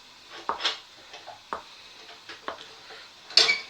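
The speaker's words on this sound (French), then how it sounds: "Nous allons couper la mozzarella en morceaux" A knife cutting mozzarella into pieces on a board, with about four or five soft, separate chops and taps spaced a second apart, close and fairly quiet in a home kitchen.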